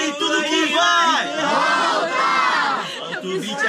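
Crowd at a rap battle cheering, shouting and whooping together in a loud continuous roar of many voices, close and filling the whole stretch.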